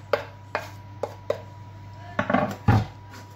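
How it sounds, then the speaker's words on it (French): Sardine, coriander and curry mixture being worked together in a bowl, giving a series of sharp, close knocks and scrapes spaced at irregular intervals with a steady low hum underneath. "Et je vais mélanger tous ces éléments-là ensemble."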